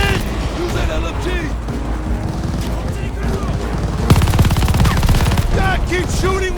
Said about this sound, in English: Use that LMG!